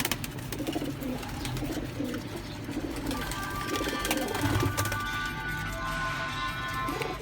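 Teddy pigeons cooing in a loft, soft repeated low coos overlapping with other bird calls and some background clatter, close and continuous.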